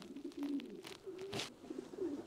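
Pigeons coo repeatedly in a loft, their low throaty calls rising and falling close by in a soft steady rhythm, with a brief rustle partway through.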